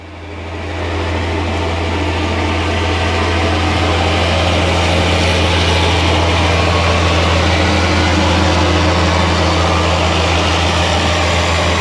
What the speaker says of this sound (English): the tractor's about to go by